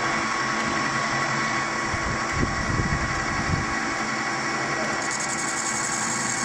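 A motor engine casing being bored out to 82 mm to take a larger piston gives a steady, loud, close machining whine with rough grinding bursts through the middle.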